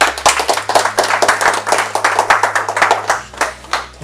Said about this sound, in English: Can we clap for the leaders?